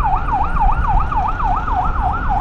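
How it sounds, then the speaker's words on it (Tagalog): An ambulance siren wails in a fast, regular up-and-down sweep over road rumble during a rainy motorcycle ride on Emilio Aguinaldo Highway, loud and close throughout. "Ayan, may ambulansya pa nga."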